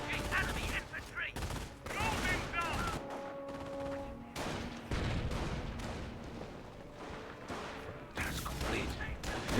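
Gunfire in the World War II strategy game Company of Heroes, with dense rattling machine-gun bursts, single shots and a frag grenade blast mixed into a busy, loud battle soundscape.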